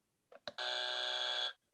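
A single sustained podcast segment buzzer sounds loud and steady for about a second, bracketed by short faint blips before and after, with no talking.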